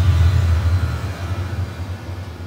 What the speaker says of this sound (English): the blowback, and this is maybe the shockwave that you would hear